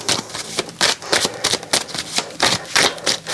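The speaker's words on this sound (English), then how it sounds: "Let's have another shuffle." Tarot cards are shuffled by hand in quick, close riffling bursts, about a dozen rhythmic rustling strokes in a row with no talk.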